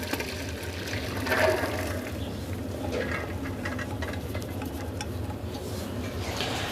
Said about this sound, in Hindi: तो हम दाल का पानी उतार लेंगे किसी छलनी में डाल के।